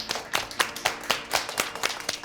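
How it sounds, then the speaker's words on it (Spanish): A small group claps hands in a loose, uneven rhythm, roughly a dozen distinct claps over a couple of seconds, close and fairly light, with no voices. "Dense una ronda de aplausos."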